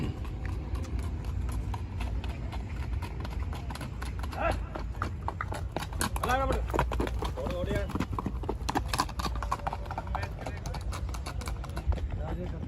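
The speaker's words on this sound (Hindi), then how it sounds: "सुना था कि घोड़ी रॉकेट की तरह भागती है।" Mare's hooves clip-clopping steadily amid a noisy outdoor crowd at a horse event, with people talking and shouting throughout.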